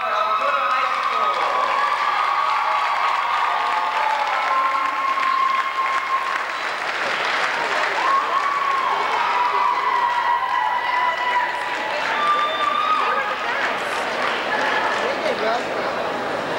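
A crowd applauds steadily at halftime of a college basketball game in a gym, sustained loud clapping and some cheering after a high school pom dance team is announced.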